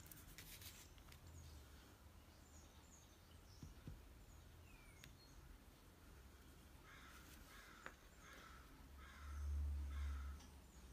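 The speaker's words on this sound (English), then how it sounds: "I can hear crows." Crows caw several times in the distance outdoors, faint harsh calls scattered over a quiet background hiss with a low rumble near the end.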